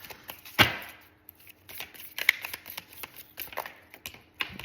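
Tarot or oracle cards shuffled for a spiritual reading, giving a quick riffling burst early on and then softer intermittent flicks and taps of card stock, close and fairly quiet with no talking.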